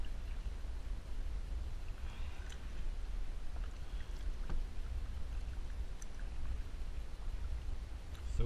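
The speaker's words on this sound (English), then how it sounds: "this thing really paddles nice compared to my canoe" A Perception Hook Angler 10.5 kayak is paddled on open water: faint, soft swishes and scattered drips and splashes over a low, steady rumble of wind and water, with no talking.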